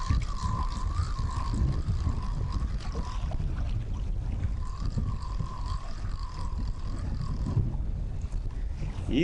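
Steady wind buffeting outdoors over a lake while fishing, a constant rough rumble with a faint wavering tone drifting in and out.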